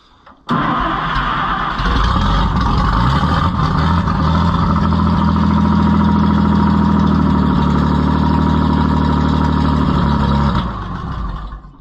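A Farmers Union CO-OP tractor engine catches after a brief crank and runs steadily and loudly up close for about ten seconds with a low, even rumble before easing off at the end.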